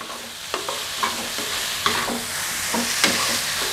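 Wai Wai instant noodles with pork and vegetables being stir-fried in a pan, steady sizzling with repeated scraping and tossing strokes of a spatula, close and clear.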